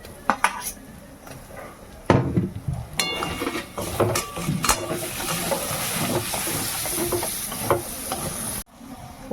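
Tomatoes go into a pan of spiced chicken for kala bhuna, with a metal spoon clattering and scraping against the pan over a steady, close sizzle of frying.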